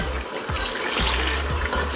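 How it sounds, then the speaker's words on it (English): Water poured into a pot of thickening ogbono soup in a Nigerian home kitchen, a steady rushing splash with a few soft low thumps throughout. "I have to put in the water."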